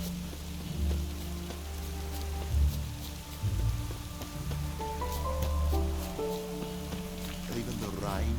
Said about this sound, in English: Must be mad running around in this rain. It just rains and rains.